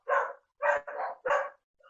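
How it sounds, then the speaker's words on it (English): Dogs let out four short barks in quick succession close by, each sharp and separate, with brief silences between them. "We have some dogs joining the podcast."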